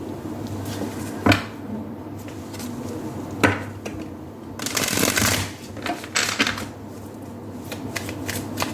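Tarot cards handled and shuffled, with a few sharp riffles and snaps, a longer burst of flicking in the middle, and softer rustling between, close by and without speech.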